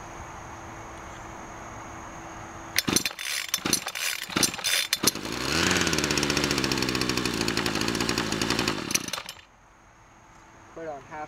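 A small engine cold-starts on full choke: several sharp pull attempts, then it catches and runs loud and steady for a few seconds before cutting out to a quiet background.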